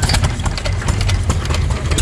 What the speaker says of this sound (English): you got all the little engines running and stuff